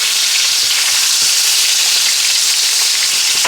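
Filet mignon steaks sear in a hot pan on the stove with a loud, continuous hiss and crackle of fat and oil, steady throughout and heard close up with no voices.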